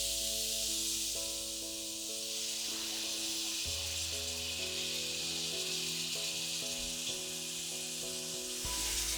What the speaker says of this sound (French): là maintenant, on va pouvoir ajouter la crème fraîche